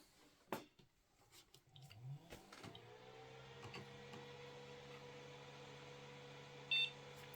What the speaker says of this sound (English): And we've got the one beep.